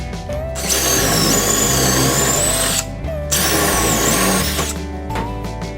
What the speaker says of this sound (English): Now we'll go ahead and drill these out to 3/8 of an inch.